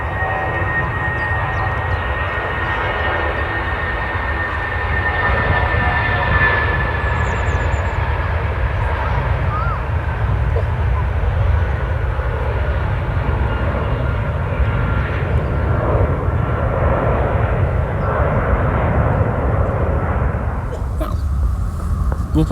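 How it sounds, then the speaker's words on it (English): SAS airliner taking off at Manchester Airport, a loud continuous engine roar that stays strong throughout, with brief faint talk near the end. "That was a beautiful takeoff."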